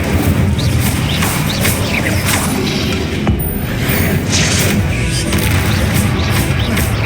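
Fiery Incendio and Confringo spells cast in the Hogwarts Legacy video game, a loud, unbroken wall of blasting, crackling effects with heavy booms rolling on for several seconds.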